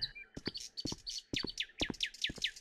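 Small birds chirp and tweet in quick, bright bursts, a lively flurry of short calls heard fairly close and a little faint.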